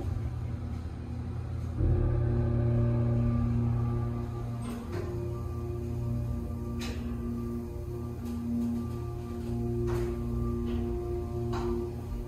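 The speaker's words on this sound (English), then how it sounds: "This thing still has a good motor" An old shopping-center elevator motor runs with a steady low rumbling hum, joined by faint ticking and clicking in the cab as it travels, with no talking.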